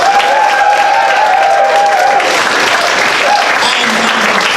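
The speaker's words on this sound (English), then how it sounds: "That's number 4 applause." Loud, steady crowd applause at a stunt show, a thick continuous roar of many hands clapping from start to finish, with faint cheering and a few voices mixed underneath.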